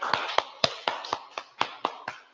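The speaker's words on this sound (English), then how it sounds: "Let us give a resounding round of applause to Dr. Ferreira as she comes to the lectern" Slow, evenly spaced hand claps, about ten in a little over two seconds, sounding like a single person or a small group rather than a full audience, fairly faint and heard without talk at a book launch event.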